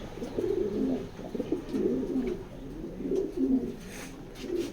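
Racing pigeons in a cage coo in low, soft, repeated phrases, one rolling call after another in a steady rhythm at close range.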